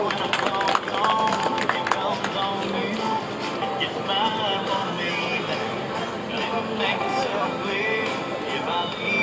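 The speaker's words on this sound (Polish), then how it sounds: "Wielkie brawa!" A crowd breaks into sustained applause and cheering at an outdoor horse-drawn carriage driving competition in Malinowo, just after a pair of tall white horses clears a water obstacle. The loud, dense clapping runs throughout with background chatter.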